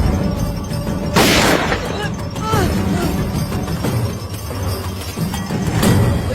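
Bursts of gunfire and booming blasts ring out repeatedly, mixed with crashing noise and some faint voices in the background.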